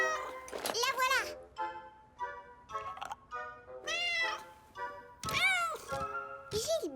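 An animated cartoon cat meows repeatedly in a French-dubbed children's cartoon, a series of loud, close, drawn-out tonal meows with short gaps between them.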